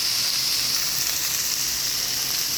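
Broccoli and peas fry in a pan with a steady, even sizzle and hiss that holds at one level throughout, close and continuous with no talking.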